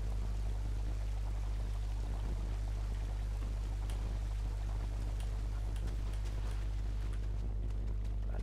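Water in the video game Unravel flows and pours steadily, a constant rushing wash over a deep low hum, with a few faint clicks scattered through it.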